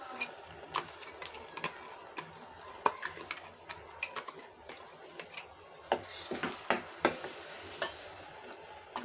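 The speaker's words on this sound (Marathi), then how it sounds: "कांदा खोबऱ्याचं वाटण चांगलं तेल सुटेपर्यंत परतून घ्यायचं." Onion and coconut paste sautéing in oil for Maharashtrian katachi aamti, with soft sizzling and repeated stirring scrapes and clinks throughout, close and steady with no voices.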